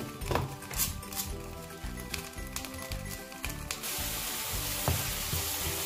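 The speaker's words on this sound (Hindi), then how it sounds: "प्याज, टमाटर, हरी मिर्च, ये सारा कुछ हम इकट्ठा डालेंगे इसमें अंदर और इसे अच्छी तरह से फ्राई करेंगे" Onion, tomato and green chili frying together in a pan for baingan bharta, a soft sizzle with clinks of a utensil and stirring, fairly faint under a steady background hum and broad hiss.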